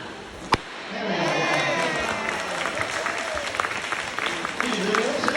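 An audience claps at a wildlife park show, a steady spread of applause lasting several seconds after a single sharp knock, with a voice speaking over it.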